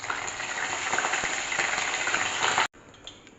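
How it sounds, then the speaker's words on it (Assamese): Moong dal frying in hot oil, a steady close crackling sizzle that runs unbroken for over two seconds, then cuts off abruptly and resumes faintly. "এতিয়া তেল গৰম হৈ গ'ল এতিয়া মুগাল দাইল এটা দি দিছোঁ তাৰপিছত মুগাল দাইল ফুটিছে"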